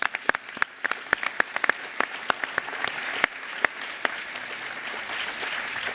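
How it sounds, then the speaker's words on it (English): Scattered applause from a small audience at an industry panel session, individual claps distinct and uneven, fairly close, fading toward a thin patter by the end. "Can we give her a round of applause?"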